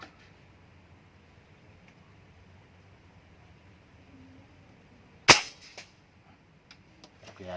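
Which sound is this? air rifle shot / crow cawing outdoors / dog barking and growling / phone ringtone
air rifle shot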